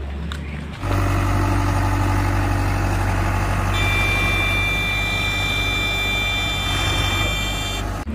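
A heavy diesel engine of a JCB backhoe loader rumbles loudly nearby, starting up after a moment and running steadily with a whining, droning tone.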